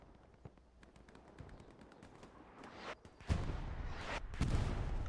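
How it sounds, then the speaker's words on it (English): An artillery strike lands in Hell Let Loose: scattered distant gunfire and clicks, then heavy booming impacts swell in two loud waves near the end, with rumbling low-end blasts. "Artillery strike coming down"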